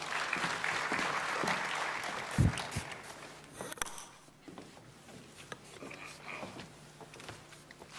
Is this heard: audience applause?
yes